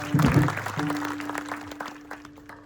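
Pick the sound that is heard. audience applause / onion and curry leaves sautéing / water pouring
audience applause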